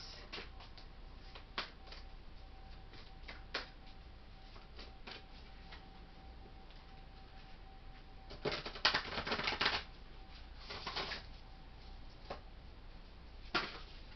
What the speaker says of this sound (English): just going to shuffle a little bit more